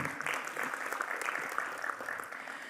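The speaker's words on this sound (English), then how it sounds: "Let's give Mr. Behram a warmer round of applause as we welcome him." Applause from a seated audience at the MEWA 2025 inauguration welcoming a nut-industry executive, even and sustained clapping at moderate distance, fairly soft, lasting under three seconds.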